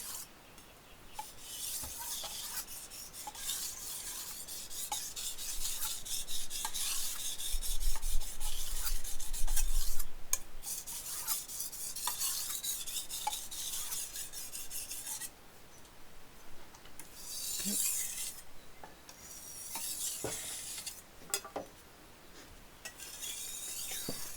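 A kitchen knife is stroked back and forth on a whetstone in long, gritty rasping passes, close and fairly loud, with brief pauses and small clinks between strokes.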